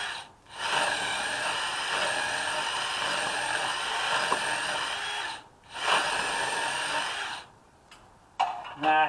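A power drill fitted with a 9/16 paddle bit bores through wood in a backyard build. It makes a loud, steady mechanical whir, breaks off twice, then gives a short final burst.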